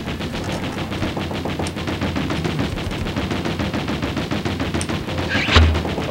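Gunfire in the Wallace and Gromit Curse of the Were-Rabbit video game on PS2, a rapid steady stream of shots running without pause, with one louder burst near the end.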